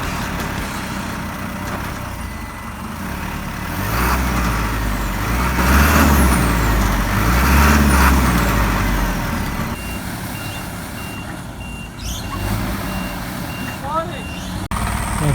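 A Subaru Outback creeps in reverse while trying to pull a stuck truck free, an engine rumbling and swelling in the middle stretch, with reversing beeps and a voice talking intermittently over the scene.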